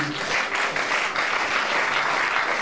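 A church congregation applauds steadily and loudly throughout, a dense continuous clapping with no break.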